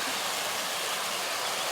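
Steady broadband rush of a river flowing right beside a medieval ruin in Donzy, an even, continuous water wash that stays moderately loud throughout with no voices.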